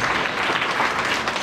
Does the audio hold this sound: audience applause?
yes